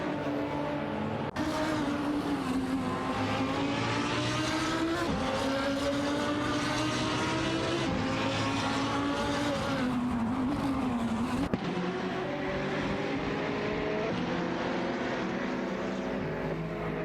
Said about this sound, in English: It's time to watch some AI race cars zoom past.